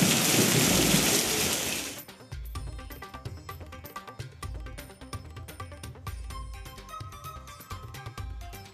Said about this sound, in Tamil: தமிழ்நாட்டின் பல இடங்களில் வெளுத்து வாங்கிய கோடை மழை.